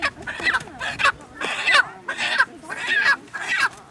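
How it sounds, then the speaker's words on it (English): A chicken clucks close by in a steady series of about six loud, rhythmic bursts with no talking over it. "See the chicken."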